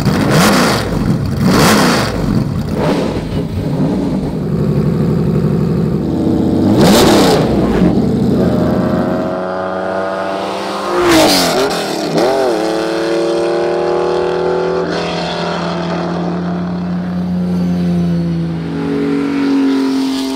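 A vintage Le Mans race car with roughly 480 brake horsepower revs loudly and close, its engine note climbing and dropping through repeated accelerations, with sharp blips between the longer pulls.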